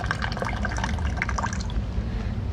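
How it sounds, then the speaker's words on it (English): Water poured from a tilted bottle onto outdoor grass during an erosion test, running out in a steady splashing stream with a constant low rumble beneath, easing off near the end. "I'm gonna pour it onto the grass here and see how much comes out."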